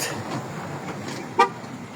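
Vehicles pass along a road heading toward an airport, a soft continuous traffic wash interrupted by one short, sharp car horn toot near the end.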